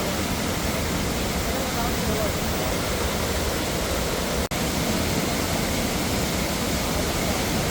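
A waterfall at Vithura in Peppara Wildlife Sanctuary near Thiruvananthapuram, running heavy after rain, its dense, steady roar filling the scene with only a momentary break.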